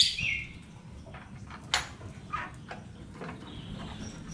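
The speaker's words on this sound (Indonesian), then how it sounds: "Selamat pagi burung-burungku" Pet birds chirping at home in the morning, giving a few short, bright tweets at modest level over a quiet room background, with no talk.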